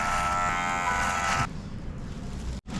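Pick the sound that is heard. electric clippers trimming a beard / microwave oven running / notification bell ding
electric clippers trimming a beard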